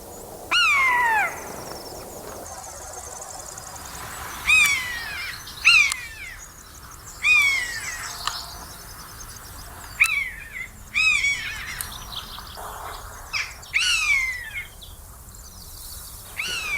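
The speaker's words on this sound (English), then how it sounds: "So you quite often hear buzzards long before you see them." Sharp, descending mewing calls of a buzzard ring out repeatedly at intervals, fairly clear over quiet outdoor background.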